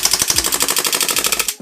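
A WE-Tech M92F gas airsoft pistol fires BBs on full auto, a rapid burst of evenly spaced sharp cracks close up that runs for over a second and a half before stopping abruptly as the magazine runs out of gas.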